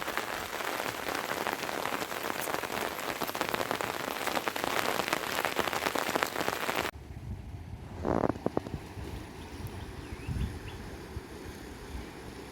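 Heavy rain pours in a Konkan village, a dense, loud hiss of drops on surfaces that drops suddenly partway through to a softer patter with a few scattered knocks.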